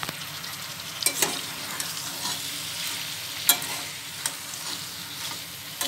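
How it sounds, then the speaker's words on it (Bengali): Pasta stirred into a pan of fried spice masala, a steady close sizzle broken by several sharp scrapes and clacks of a spoon against the pan, with no voices. "পাস্তাগুলোর সঙ্গে এভাবে ভালো করে মিক্স করে নেছি মশলাটাকে"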